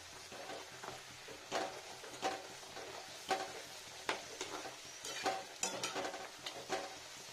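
Puris frying in very hot oil while spinach-and-radish dough is cooked, giving a steady close sizzle with repeated bursts of crackling and spatter as the pieces bubble, with light clinks from utensils.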